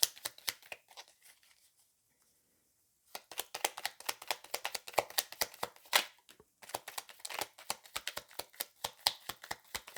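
Tarot cards being shuffled and drawn by hand, heard as quick, close, dry flicks and riffles that run in rapid bursts, with a short quiet pause before the card snapping resumes.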